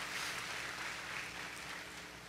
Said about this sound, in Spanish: Den un fuerte aplauso a nuestro Dios